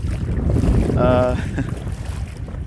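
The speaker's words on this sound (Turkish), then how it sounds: "Çok rüzgar esiyor karşımızdan." Strong wind roars and buffets against the microphone on a boat heading to an island, a heavy rushing noise with a brief whine in the middle.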